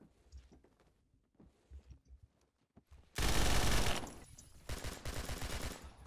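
A very rapid-firing automatic gun in Phantom Forces unleashes a dense, loud burst of shots, preceded by scattered quieter footsteps and thuds, then a second sustained stretch of fire.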